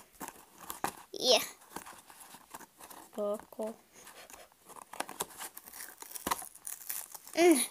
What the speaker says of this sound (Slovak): už som to otvorila, pretože tam bola lepiaca páska